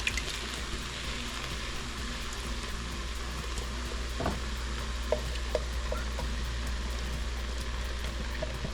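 Tomatoes drop into a pot of vegetable soup and set off a steady sizzling, bubbling hiss, with a few faint splashes and light taps partway through.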